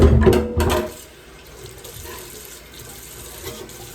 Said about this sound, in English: I'm gonna go ahead and wash this off because I don't need it anymore.